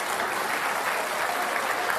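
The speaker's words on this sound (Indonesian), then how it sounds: "Kita kasih tepuk tangan untuk kedua kandidat." A short burst of steady applause from a crowd at a Jakarta governor candidates' debate, moderately distant, with no voices over it.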